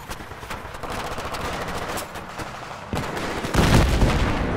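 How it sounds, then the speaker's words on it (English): Rapid automatic gunfire erupts in a Battlefield 3 ambush, bursts layered continuously and growing louder and closer toward the end, with no talking. "People down, taking fire from the left!"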